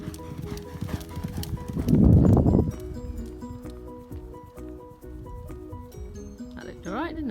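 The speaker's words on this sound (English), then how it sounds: "Rob, one of the older horses." Horses' hooves clip-clop in a racing stable, with a burst of loud shuffling and stamping under a person talking, while music plays throughout.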